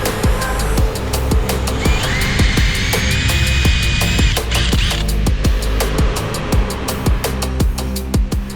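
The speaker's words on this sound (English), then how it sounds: "So I'm gonna go drill this flange, then drill through there and tap." A power drill bores through a metal flange on a C8 Corvette drift car build, a continuous high whine with rapid rattling clicks and a sustained screech in the middle, loud and close.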